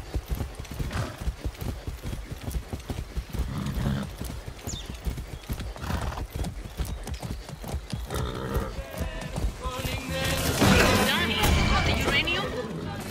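Horse hooves clip-clop steadily in Far Cry 6, close and rhythmic, with an occasional whinny. Voices and game sounds rise over them near the end.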